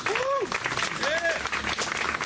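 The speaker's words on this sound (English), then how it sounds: "Let's give him a huge round of applause." Audience applause at a historical marker dedication, a short burst of continuous clapping with voices and whoops rising over it.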